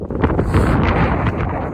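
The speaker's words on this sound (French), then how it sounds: "il y a beaucoup de vent, il fait froid là" Strong wind buffets the microphone outdoors during a cold night hike in the Jura, a continuous loud roaring rumble that fills the clip without any talk.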